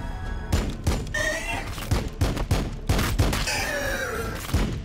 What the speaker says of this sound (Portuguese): Vamos começar a atirar nesses aqui.